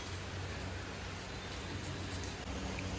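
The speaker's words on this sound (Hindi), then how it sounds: "आप देख सकते हो बारिश हो रही है" Rain falls outside in a steady, faint hiss that stays even throughout.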